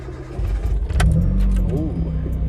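A Toyota AE86 Sprinter with a 4AGE engine cranks briefly and then catches, settling into a low, rough idle heard up close from the cabin, while a person talks over it.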